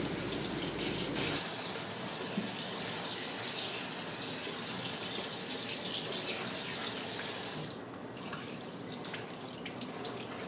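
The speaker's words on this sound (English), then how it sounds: "now we will flip this to cold and rinse this off really, really well and help lock in that color." Cold tap water runs steadily into a sink while a freshly dyed dress is rinsed, a loud continuous hiss and splash that drops slightly in level near the end.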